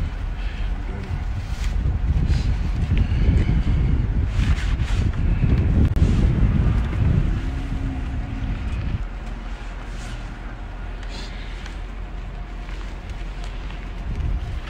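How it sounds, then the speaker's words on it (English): Steady wind roars and buffets the microphone, loud at first and easing slightly later, with faint rustling and no clear speech. "It was windy as a bitch out there"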